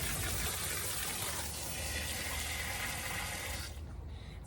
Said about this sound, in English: as I water right now, and the water coming out of here is super, super hot